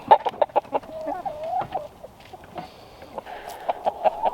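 A rooster clucks near a chicken coop, a series of short, sharp clucks in bursts with a longer warbling call between, close and clear over a quiet outdoor background.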